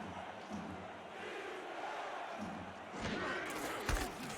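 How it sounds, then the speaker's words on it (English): Stadium crowd at a college football game, Louisiana at Houston, a dense continuous roar with rhythmic swells of chanting for defense, carrying on steadily before growing louder near the end. "This crowd picks up a chant of defense."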